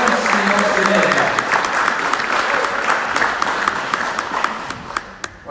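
Steady applause from an audience at a televised debate panel on Israel, dense clapping filling the room with some voices talking over it, tapering slightly toward the end.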